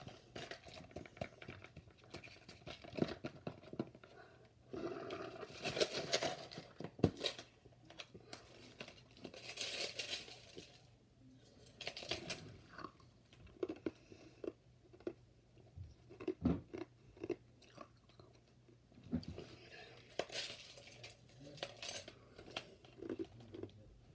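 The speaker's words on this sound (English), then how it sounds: "I'm going to do an ASMR of this cup." A cup is tapped, scratched and handled up close for ASMR, giving quiet, busy clicks, rustles and crinkles that come in uneven clusters with soft pauses, and no one speaks.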